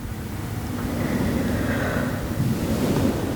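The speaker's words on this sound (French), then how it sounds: "qu'est-ce que c'est que ce vent?" Strong wind gusting through an outdoor garden in winter, a broad rushing roar that swells and buffets the microphone steadily, with no voices.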